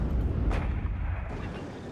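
Artillery fire in the real-time strategy game Warno, coming from four guns, rolls out as a heavy, dense rumble with deep booms blending into one another at moderate loudness and no voices.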